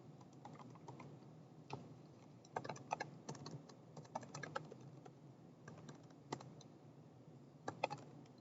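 Rapid typing of C++ code on a computer keyboard during a programming lecture: soft, steady key clicks with occasional louder clustered bursts, moderately close, with no voices.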